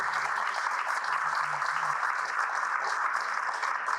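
Steady, dense applause from a crowd at a French fundraising evening, continuous and even for several seconds with no break.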